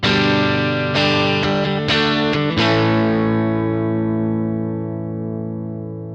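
Electric guitar through a pedalboard with reverb switched on, struck in several loud crunchy distorted chords that ring out and decay slowly, with no talking.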